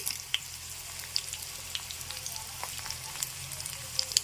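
Chana dal sizzles in hot oil while tempering for vakkaya pachadi, a soft, steady frying hiss with scattered small pops and crackles, fairly faint and without talk.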